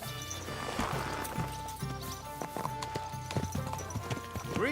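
Horse hooves clip-clopping in a steady trotting rhythm after mounting up in the medieval game Kingdom Come: Deliverance II, close and fairly loud, with a few knocks and a brief whinny-like sound mixed in.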